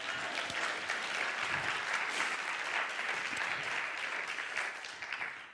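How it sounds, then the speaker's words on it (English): An audience at a talk in a Unity church hall in Portland breaks into steady applause, a soft, even wash of many hands clapping with no voices over it. "let's clap for that"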